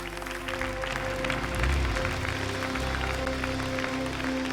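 A church congregation applauds and cheers together, a dense, steady wash of clapping that holds loud and even throughout, with no clear voice standing out.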